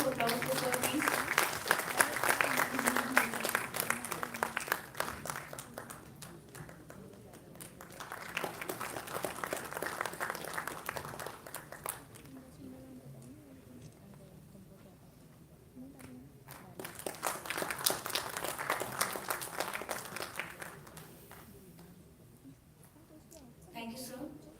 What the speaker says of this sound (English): Round of applause for sir, please.